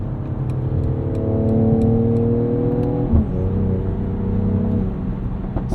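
A 2022 Mercedes GLE 53 AMG in Sport Plus mode gives a steady, close engine hum from inside the cabin, rising and shifting in pitch as it accelerates, with a brief thump midway.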